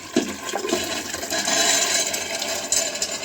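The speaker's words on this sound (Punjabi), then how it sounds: "ਆ ਦੇਖੋ ਸਾਡੇ ਰਾਜਮਾ ਜਿਹੜੇ ਅਸੀਂ ਇਹਦੇ ਵਿੱਚ ਪਾਣ ਲੱਗੇ ਕੁੱਕਰ ਦੇ" Soaked rajma kidney beans pour into a pressure cooker with a wet, rattling rush, a steady close stream lasting a few seconds with no talk.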